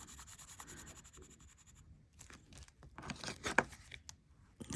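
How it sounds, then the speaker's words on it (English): Metal embossing tape being smoothed down by hand on a papercraft project, giving soft scattered rubbing and scraping strokes that build toward firmer, louder passes near the end. "I'm just smoothing this down."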